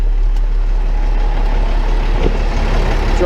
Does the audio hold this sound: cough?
no